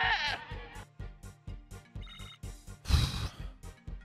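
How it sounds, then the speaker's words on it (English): A goat's bleat from a summon in Final Fantasy VIII Remastered opens loud and wavering, then gives way to steady, rhythmic battle music with a sharp, bright burst near the end. "Ad Stellarum summoned the goat."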